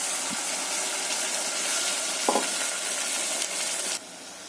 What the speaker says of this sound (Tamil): இந்த டயத்தில் வந்து இந்த 2 முட்டையை உடச்சி அதில் ஊற்றிடுவோம்.